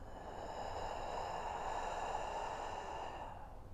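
A deep breath ends in one long, steady exhale through the mouth, close and breathy, fading at the end over a faint tonal background.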